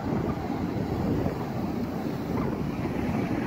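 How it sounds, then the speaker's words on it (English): Strong wind buffeting the microphone on a seawall by the ocean on a windy morning, with waves washing over, a steady loud broadband roar with no voices. "It's a windy morning, and as you can see, the ocean is coming over the seawall here."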